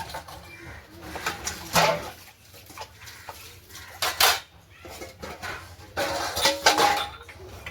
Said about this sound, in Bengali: তো এখন আমি বাসন কটা সবগুলো ধুয়ে নিচ্ছি।